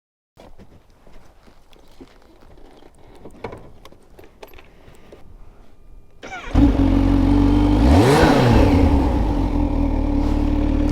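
A Kawasaki Z H2 motorcycle engine stays quiet at first, then bursts into a loud, close roar partway through, revving up and back down before holding a steady, powerful drone.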